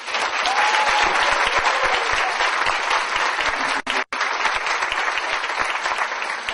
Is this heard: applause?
yes